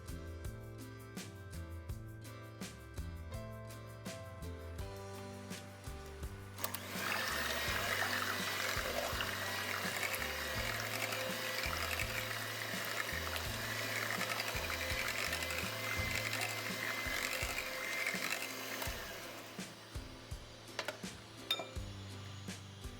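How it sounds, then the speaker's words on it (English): A hand or stand mixer beats flan batter of sweetened condensed milk and vanilla extract, a steady whirring drone over a rhythmic background beat, loud and continuous for most of the stretch before easing off near the end. "Beat everything together for about 1 minute or until well combined."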